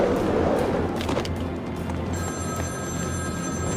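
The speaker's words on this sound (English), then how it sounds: "Answer my phone and answer it quick, Batman." An in-game telephone rings in Batman: Arkham City, a repeated electronic bell tone emerging over a dense, noisy game soundscape, fairly loud, with no speech.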